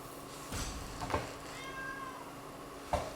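A domestic cat meows a few times, close and clear, with short plaintive calls spaced out over a quiet background hum.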